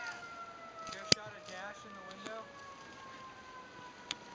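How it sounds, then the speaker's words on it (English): Sirens wail outside on a snowy day, rising and falling tones layered in the distance with a couple of sharp clicks nearby. "Sirens going off."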